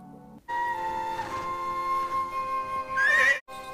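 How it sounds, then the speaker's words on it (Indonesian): A horse in the animated Yakari film gives a loud, sustained neigh that rises into a high whinny near the end, heard alone with no speech. "Di saat itu juga muncullah kuda yang sangat cantik."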